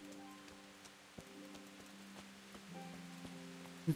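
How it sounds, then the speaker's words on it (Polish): Soft, steady rainfall in the video game Kingdom Come: Deliverance patters in the background, faint and continuous, with a few light taps and low sustained tones underneath. "I cały czas deszcz napierdol."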